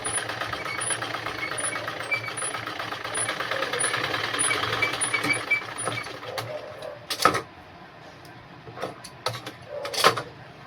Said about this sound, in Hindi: तो गाइज ये सिल रहा है